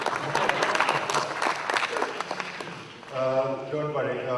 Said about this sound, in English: Yeah, louder clap.